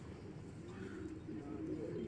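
Racing pigeons coo in a low, continuous murmur throughout, a soft rolling warble that sounds like several birds close by.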